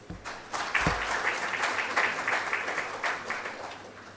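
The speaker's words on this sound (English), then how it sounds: "Once again, a round of applause." Audience applause at a building inauguration ceremony, a thin start swelling within a second into steady, sustained clapping from a sizable crowd that carries on without talk to the end.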